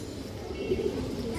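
A female pigeon, one of several fancy breeds kept for sale, coos softly in low repeated murmurs at close range, with faint background noise throughout.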